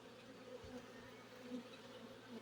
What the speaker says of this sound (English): Here's a look at all those bees.